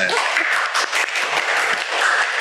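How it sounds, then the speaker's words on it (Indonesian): A small studio audience on a motorcycle shop podcast applauds, a dense burst of close clapping that fills the whole stretch without pause. "tepuk tangan boleh."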